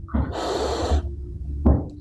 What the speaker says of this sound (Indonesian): Tarik nafas yang panjang.